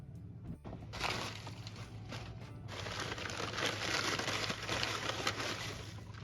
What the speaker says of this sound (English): crush herbs with your hands